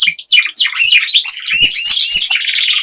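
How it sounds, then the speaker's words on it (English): Several birds sing and chirp in an indoor bird room, including dimorphic birds, with continuous overlapping high tweets and trills filling the space, close and clear. "That other bird that you can hear singing is one of the dimorphics."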